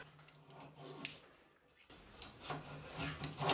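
A small handmade hand plane shaves bevels and curves into wood, giving a series of rasping, rubbing strokes that grow louder and denser toward the end, close up with no talk.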